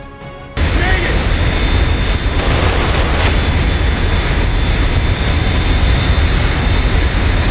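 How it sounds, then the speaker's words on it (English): An airplane in the Kane & Lynch video game taxis and lifts off, a loud, steady broadband engine roar that starts abruptly after a brief quieter moment and holds at full strength throughout. "The plane just takes off."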